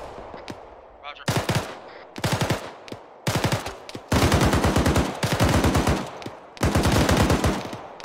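Loud bursts of automatic gunfire from an ArmA 3 firefight, repeated volleys in rapid rhythmic strings separated by short pauses, with a faint voice underneath.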